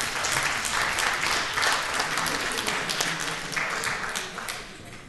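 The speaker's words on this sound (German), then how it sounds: "Ja, ist schon ein Applaus wert, ne?" Delegates at a 2014 Upper Bavaria district party conference applaud after the outgoing board is formally discharged. Full, sustained clapping runs throughout and fades slightly near the end.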